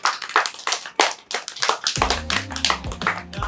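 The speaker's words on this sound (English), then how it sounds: "Please give a clap" Children in a classroom clap their hands in a loose, uneven rhythm of close, sharp claps, joined partway through by a low musical backing.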